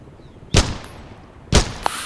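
Two sharp, loud gunshots about a second apart ring out at targets in the video game Dagger Directive, each with a brief crack and quick decay.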